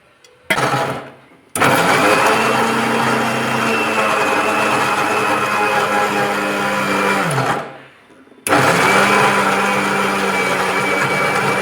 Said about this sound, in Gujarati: હવે આપણે મૂકી અને મિક્સર જારમાં ક્રશ કરી લઈશું